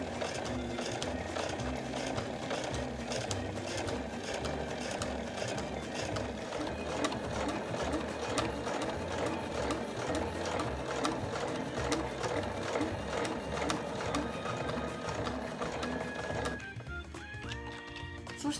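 A sewing machine stitches fabric and a zipper for a gusseted body bag, its needle hammering in a rapid, steady mechanical rhythm for about sixteen seconds before stopping with a few clicks.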